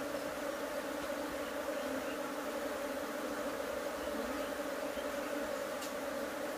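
Honey bees drone steadily in a dense, continuous buzz at an opened beehive during colony splitting, a strong crowded hive, moderately loud and unbroken with no voices.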